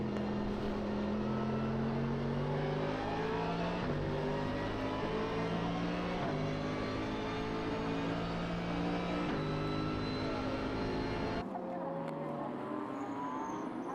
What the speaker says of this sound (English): The Corvette with good grunt out that final turn. Really having to feather the throttle.